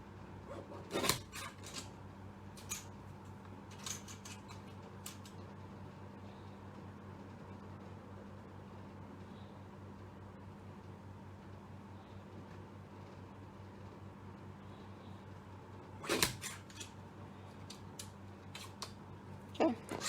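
Scissors trimming paper for a handmade card, two short snips about fifteen seconds apart over a faint, quiet room hum, with soft handling rustles in between.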